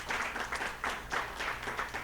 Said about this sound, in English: A round of applause for yourselves for being here and being fantastic.